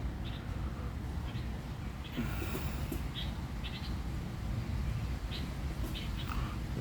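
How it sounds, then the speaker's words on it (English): Tropical birds in Hawaii chirp and call in scattered short bursts over a low rumbling outdoor background, fairly faint and at a moderate distance. "There's tropical birds everywhere."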